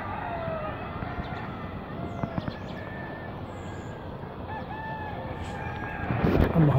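A pair of partridges calls in a farm field, giving intermittent, moderately distant calls over steady outdoor background noise, with a louder burst near the end.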